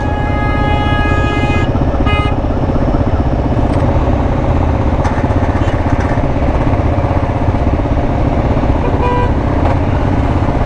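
Car and motorcycle horns honk intermittently in congested street traffic in Juliaca, Peru, over a steady, loud drone of idling and revving engines, with the clearest horn blasts near the start and again toward the end.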